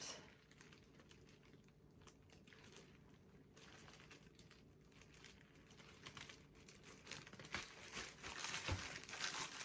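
Plastic oven bag crinkling as it is tied shut around a turkey in a roasting pan, a faint, continuous rustle and crackle of thin plastic handled close by, with no talk.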